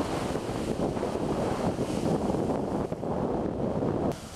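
Strong storm wind in Istanbul gusting at up to 80 km/h, a loud continuous roar buffeting the microphone, steady throughout with no voices.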